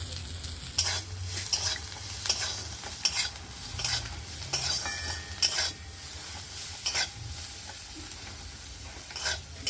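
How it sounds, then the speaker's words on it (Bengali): Green chilies sizzle in hot oil in a home kitchen pan, with a continuous frying crackle broken by repeated scraping stirs of a utensil; no one speaks. "আর কাঁচা লঙ্কাটাও তেলের ভিতরে দিয়ে ভালো করে নাড়তে হবে।"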